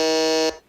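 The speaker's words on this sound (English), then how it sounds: "Kabir again on the buzzer" A quiz-show buzzer sounds once, a loud flat electronic tone lasting about half a second before cutting off abruptly.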